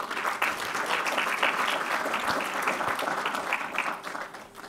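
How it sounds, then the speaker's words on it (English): Applause breaks out at a memorial lecture, a crowd clapping steadily and fairly loud before fading slightly toward the end. "I hear Jim clapping."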